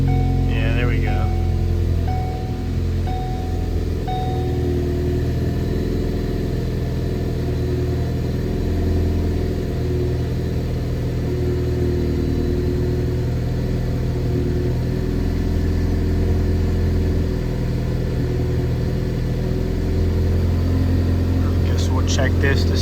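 A Ford Focus ST engine runs at a steady idle after a purge valve replacement, a constant low hum with a few faint clicks near the start and end and no revving.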